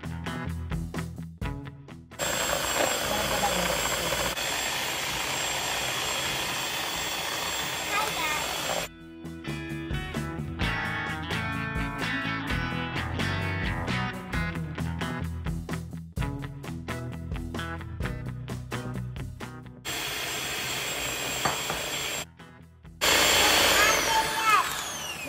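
Cake batter being mixed with an electric mixer while dry ingredients are added: a loud, steady motor whine that stops and restarts several times, with voices talking nearby.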